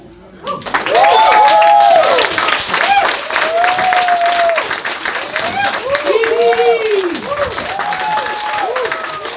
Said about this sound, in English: Keep your applause rolling for Oliver!